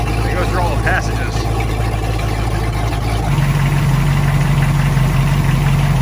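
An inboard boat engine idles and warms up after sitting unused for a few months on a very cold day. It runs steadily with a slightly clattery tone, loud and close, while a voice talks over it.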